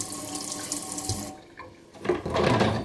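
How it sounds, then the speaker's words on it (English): A kitchen sink sprayer blasts cold water onto a warped resin part, a close hissing spray that cuts off briefly midway, then resumes louder and splashier. "especially if you have one of these sprayers, it works great versus just a full faucet. Sprinkle some cold water on it."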